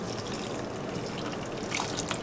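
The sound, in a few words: straining liquid from cooked vegetables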